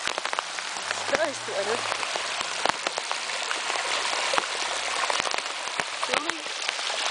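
Heavy rain during Brisbane flooding pours off a building like waterfalls, a dense, steady patter and rush of water close by, with scattered drips and people talking briefly over it.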